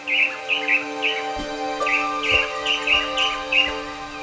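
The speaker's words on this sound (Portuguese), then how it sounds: "Em outra árvore, avistamos um tangará dançador, que vocalizava com insistência." Blue manakin calling repeatedly in forest at Serra dos Órgãos National Park, Brazil, with clear chirping notes in a steady rhythm over other birdsong and a faint background hum.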